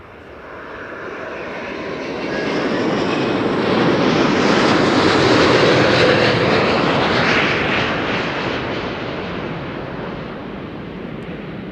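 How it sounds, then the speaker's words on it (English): A Delta Airlines Airbus A330neo arrives at Amsterdam Schiphol with a loud, broad jet roar. The sound swells as the airliner passes overhead and then fades slowly into a rushing rumble. "Next up, Delta Airlines flight 48, arriving from New York. A330neo"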